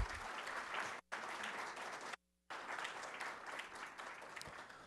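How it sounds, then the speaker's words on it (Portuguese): Audience applause for panelists at a workshop, a faint, steady wash of clapping broken by two brief dropouts into silence. "Uma salva de palmas aos painelistas."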